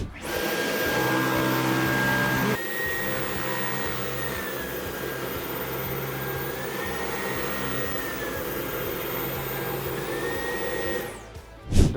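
A Dyson V11 Absolute Pro cordless vacuum cleaner runs steadily with a loud, even motor whine, briefly shifting pitch as the setting changes, then cutting off near the end, with no talking.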